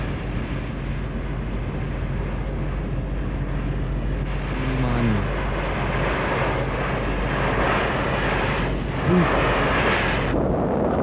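SL-4 rocket carrying the Soyuz spacecraft launching from Baikonur, a steady, dense roar of engine thrust that holds throughout and is heavy in the low end.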